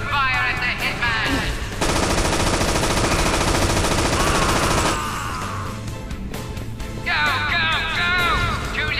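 Machine gun fire in the video game Infernal, loud sustained automatic bursts mixed with game sound effects and warbling tones, close and dense with no clear talking.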